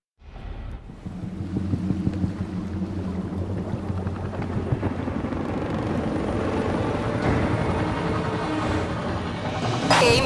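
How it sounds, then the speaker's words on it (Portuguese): Helicopters in Gears of War Ultimate Edition, a steady low rotor rumble and droning engine that builds and stays loud throughout, with no talk. "Redirecione esses helicópteros"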